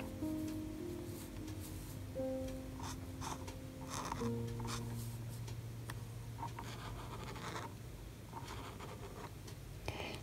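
Spectrum Noir Tri-Color marker with a flexible nib outlining on paper, faint scratchy strokes in short bursts over a steady low hum.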